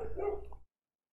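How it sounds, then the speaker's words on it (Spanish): A dog barks nearby, a short burst of loud yips and barks lasting about half a second before the sound cuts off to silence, heard indoors during a gaming session. "Espera que ladre mi perro."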